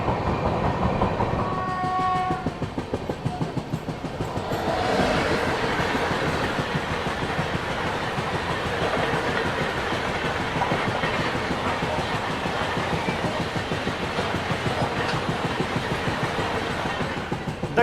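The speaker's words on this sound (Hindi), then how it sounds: "देखिए, पहली खूबसूरत क्रॉसिंग हमारी होगी दक्षिण एक्सप्रेस के।" Dakshin Express train passing a level crossing on an Indian railway line, its wagons' clickety-clack running loud and steady throughout, with a brief horn-like tone near the start.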